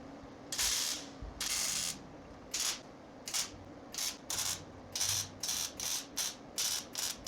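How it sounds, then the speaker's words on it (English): Plug welds go into a 1971 Cuda tail light panel as a series of short, crackling welding bursts, about a dozen in a fairly even rhythm with brief pauses between them, close and clear. "And now let's plug weld through those holes that we removed the resistance welds."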